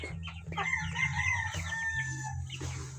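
Backyard chickens in a coop with rice hull bedding, a rooster crowing amid several hens clucking nearby, over a low steady background hum.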